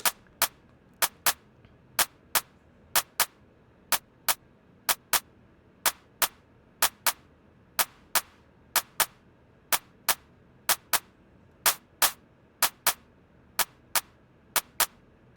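Synthesized TR-808 style handclap built in Phase Plant, repeating as crisp, bright snapping hits in an irregular pattern over silence, each short and sharp with no voice present.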